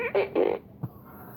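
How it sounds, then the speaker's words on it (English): A battery-powered toy fart gun with a light lets out two short, buzzy raspberry blasts, followed by a faint thump and then quiet. "I love my fart gun."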